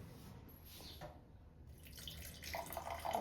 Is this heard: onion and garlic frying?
no